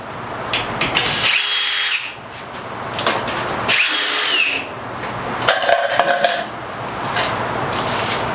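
A power tool backs screws out of the rear panel of an LG DLGX4001W gas dryer in several short whirring bursts close by, separated by brief pauses and light metallic clatter.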